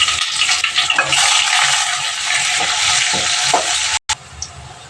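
Sliced onion fries in oil with curry leaves and dried red chillies for potato rice. A loud, steady sizzle comes with occasional stirring clinks, then cuts out briefly before resuming more quietly.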